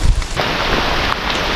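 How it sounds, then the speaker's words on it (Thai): Heavy rain pours down in a forest during a storm, a dense, steady broadband wash with wind buffeting the microphone and a low rumble at the start. "ตอนนี้ฝนตกหนักมากเลยนี่สังเกตได้เลยทุกคน"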